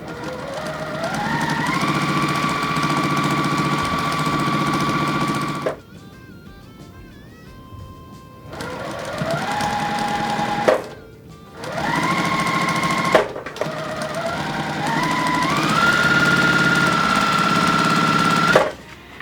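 Electric sewing machine stitching rows of a scrappy patchwork quilt, running in several loud sustained bursts whose motor whine rises in pitch as it speeds up, with short pauses between seams and no talking.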